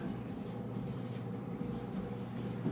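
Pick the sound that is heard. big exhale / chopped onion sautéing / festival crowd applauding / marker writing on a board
marker writing on a board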